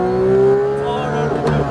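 A Porsche GT3 RS accelerates on the Issoire race circuit, its engine note climbing in a smooth, loud rising drone heard from inside the car, with brief voices over it.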